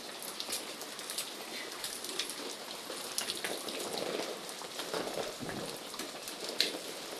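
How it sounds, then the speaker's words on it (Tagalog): Morning rain patters steadily on surfaces along a walk to a market, a soft, continuous spatter of drops with occasional sharper taps, faint and even throughout. "Baka lumakas lalo yung ulan"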